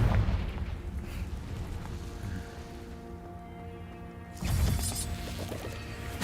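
A fire spell explosion in Hogwarts Legacy booms with deep crashing bursts at the start, dies into a resonant tonal rumble, then another loud blast lands near the end, all under game music, with no talking.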